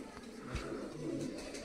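Pigeons kept by a fancier, cooing softly and fairly close in a short, low, murmuring burst over quiet background noise.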